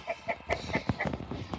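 Several short clucking calls from chickens close by, repeating in an irregular rhythm with no talking.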